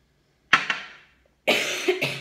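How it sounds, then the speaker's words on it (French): A person coughing close up from clay dust, a sharp double cough, a pause, then a longer harsher fit of two or three coughs. "C'est la poussière de de l'argile qui me fait tousser."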